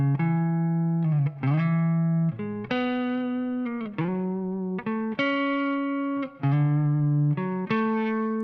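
Guitar playing triads within a scale shape, a series of sustained chords changing every second or so, loud and close with no talk over it.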